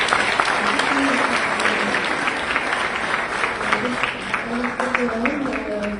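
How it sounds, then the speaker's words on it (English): An audience applauds at a youth retreat on mental health, with sustained, dense clapping and voices talking through it. "So give them a round of applause."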